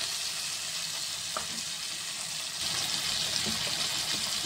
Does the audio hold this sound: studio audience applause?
no